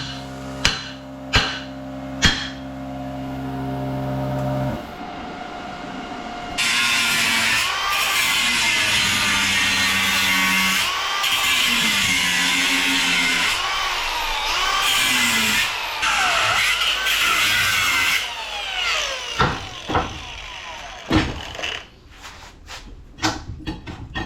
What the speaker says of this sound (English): When am I going to learn to just use the cutoff wheel?